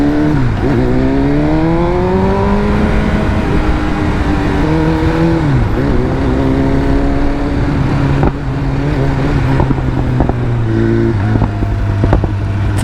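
A 2023 BMW M1000R motorcycle engine revving hard while riding, loud and close, with rising pitch sweeps through repeated gear changes and steady high-revving drones, heard alone without talk.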